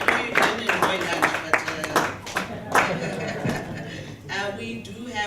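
A room of people claps in a brief round of applause, steady and moderately loud, tapering off as a voice begins to speak.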